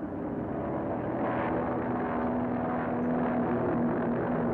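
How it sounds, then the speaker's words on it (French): A regular airliner on the Tangier–Copenhagen route takes off in a radio drama effect: a steady, loud engine roar and droning hum that swells slightly and holds throughout, with no voices. "l'avion régulier Tanger-Copenhague décollait, emportant nos quatre amis optimistes"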